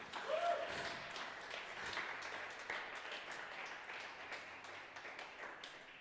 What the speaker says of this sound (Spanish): Sí, dele un aplauso al Señor.